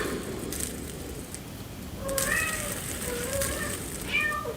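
A house cat meows several times indoors, short rising and falling calls in the second half, over a steady background hiss.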